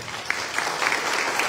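An audience bursts into brisk, sustained applause at a university academic-year inauguration in Chilca, many hands clapping in a dense, even wash.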